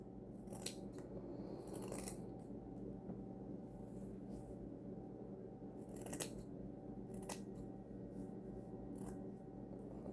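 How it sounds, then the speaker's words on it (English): Scissors snip along the edges of a piece in a quiet room, with several short, crisp cutting bursts spaced irregularly over a low steady background hum. "Let me grab a piece of scissors."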